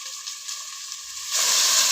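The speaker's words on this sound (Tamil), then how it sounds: "வெங்காயம் பச்சை மிளகாயை நல்லா வதக்கிக்கிட்டு இருக்கோம்." Onion, green chili and chicken frying in hot oil make a steady, close sizzle that swells noticeably louder toward the end.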